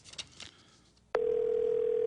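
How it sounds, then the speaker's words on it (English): On an unanswered phone call, a steady electronic ringing tone starts abruptly and holds loud and unbroken after a moment of faint background voices. "You can hear it ringing."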